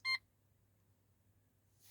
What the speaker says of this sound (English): confirm beeps, you can turn that on or off